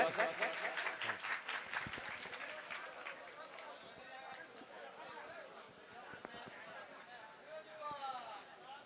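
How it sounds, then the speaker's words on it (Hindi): An audience at a village Ramayan singing competition in Baloda applauds the performers with a burst of scattered clapping that fades over several seconds beneath a loud announcer's voice. "तालियों से स्वागत।"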